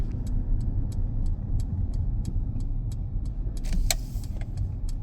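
Car pulling out of a UK driving test centre in Huddersfield, a low steady engine and road rumble with an indicator ticking at an even rhythm throughout.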